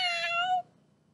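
A voice imitates a cat's meow during a story about a dog at the vet, a single drawn-out, clear mew lasting about half a second before falling silent.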